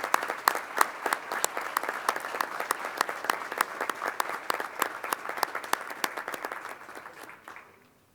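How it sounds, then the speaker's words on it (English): A room full of people gives a sustained round of applause for a student honoured at a school board meeting, dense steady clapping that carries on for about seven seconds before tapering off. "just giving Esteban a round of applause for being a great kid in Magnolia ISD"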